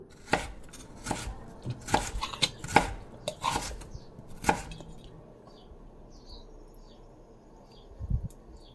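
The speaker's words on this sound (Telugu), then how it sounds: "అవన్నీ కూల్ అయిపోయిన తర్వాత చిన్న చిన్న పీసెస్ లాగా ప్రతి ఒక్క పీస్ని కూడా కట్ చేసుకోవాలి" A knife chops through cooled maida flour dough on a board into small pieces, about eight sharp close knocks spaced irregularly over the first five seconds, then quiet with faint bird chirps and one soft thud near the end.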